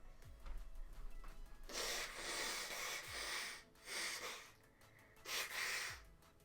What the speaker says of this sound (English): I'm gonna blow my nose right now